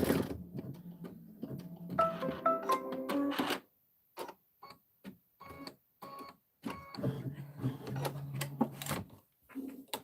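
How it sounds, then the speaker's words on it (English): Embroidery machine stitching a decorative tree trunk outline on a Kimberbell tile, with bursts of rapid clicking needle strikes separated by short pauses, close up and moderately loud. "we're going to stitch the trunk decorative outline"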